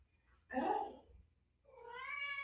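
A house cat meows twice close by and fairly quietly: a short, harsh first call followed after a brief pause by a longer, drawn-out, rising and falling meow, with faint room hum underneath.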